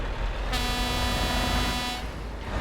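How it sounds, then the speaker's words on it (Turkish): A loud, sustained truck horn in the video game Euro Truck Simulator 2 blasts for about a second and a half over road noise, then cuts off abruptly. "ben daha kornaya basacağım"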